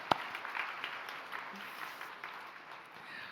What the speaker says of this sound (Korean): 우리 힘찬 격려의 박수 한번 하겠습니다